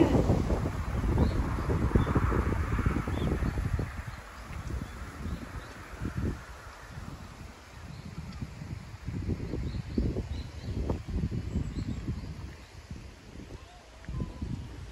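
Strong, very cold gusty wind buffets the microphone in low rumbling bursts at a park, with a person talking underneath and faint outdoor sounds in the background.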